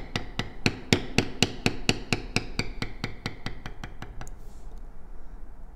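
A mallet taps a leather beveling tool again and again while a vine pattern is tooled on a leather belt, giving close, sharp, evenly spaced knocks that quicken and then stop, followed by a quiet pause.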